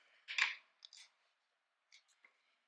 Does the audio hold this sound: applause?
no